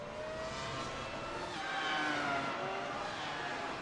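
A race car in a sim racing game at Barber Motorsports Park, with a steady engine whine rising and falling in pitch under a constant rush of road and tire noise, no talking.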